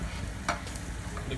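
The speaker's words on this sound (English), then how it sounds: "I should do it and stir it around a bit. So you can get that yellowish look the onions." Onions stir-fried in a pan for egg fried balls, giving a steady broadband sizzle with a brief scrape of stirring in the middle, close and fairly loud, with no talking.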